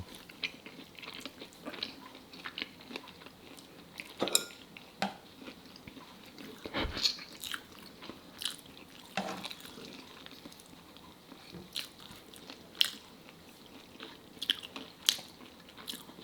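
Biting and chewing on Korean fried chicken heard close up, soft crunches and wet chewing in an irregular rhythm with a few sharper bites, quiet and without talking.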